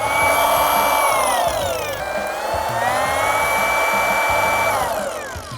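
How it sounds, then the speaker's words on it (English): A Hercules cordless variable-speed polisher runs loudly nearby, its high motor whine sweeping down and back up in pitch as the speed changes, then winding down at the end. "This thing has variable speed all the way up to 2400 and down to 800."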